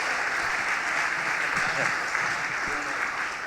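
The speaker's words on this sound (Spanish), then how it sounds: "vamos a recibir al pastor David Tames con un aplauso más grande esta noche" A church conference audience claps steadily to welcome a pastor, a dense, even wash of applause from a large room that holds at a constant level throughout.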